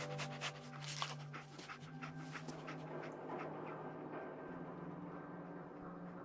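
Dogmeat, a dog in a video game, panting close by in quick, rhythmic breaths, with a few faint whimpers and soft background noise.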